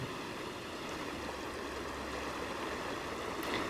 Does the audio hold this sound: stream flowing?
yes